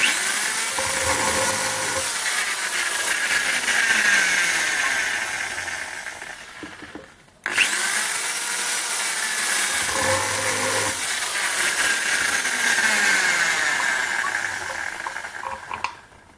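Countersink drill bit cutting into wood at 3000 RPM, a steady loud whirring grind that runs for about seven seconds, breaks off, then repeats for a second smooth cut of similar length, with no talking.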